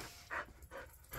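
A dog makes a few short, close vocal bursts with panting-like breaths between them, no people talking.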